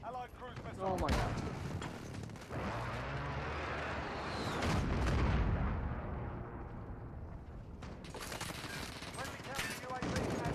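Repeated heavy blasts and gunfire from an enemy precision airstrike in the Modern Warfare video game beta, loud and sustained with booming low rumble over about ten seconds, a voice talking over it.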